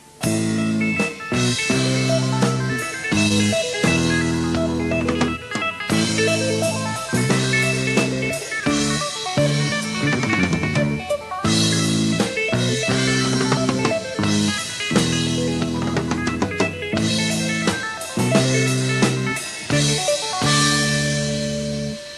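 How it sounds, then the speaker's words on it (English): Guitar picks out repeating arpeggio patterns while bass and drums punch accented hits against them, steady and full throughout. "when the guitar is doing arpeggio figures, the bass and drums can play a counter melody with accents against that"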